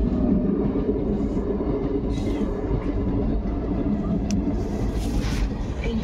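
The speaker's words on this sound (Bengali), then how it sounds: "ও দেখো ট্রেন আসছে" A train rumbles past a railway level crossing, a steady loud roll of wagons with faint clatter throughout, heard from close by with little speech.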